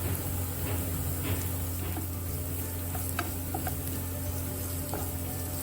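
Chopped onions fry in hot oil with ginger-garlic paste for a spicy masala fried fish. A steady close sizzle runs throughout, with faint scraping and stirring clicks scattered over it.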